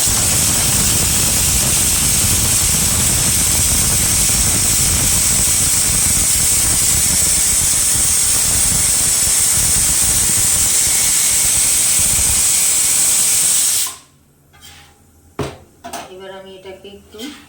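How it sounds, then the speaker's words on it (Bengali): A pressure cooker whistles loudly and steadily, a strong hissing steam release on a kitchen stove while cauliflower paratha is being made, lasting about fourteen seconds before cutting off to quieter kitchen clatter. "আর এদিকে প্রেসারের সিটি হয়ে এসছে।"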